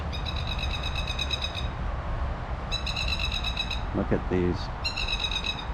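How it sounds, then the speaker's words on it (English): A bird repeats bright, rapid chirping trills in three bursts over steady outdoor background noise in a botanical garden in Hobart, Tasmania, while a person briefly speaks nearby. "as you hear the bird in the background there"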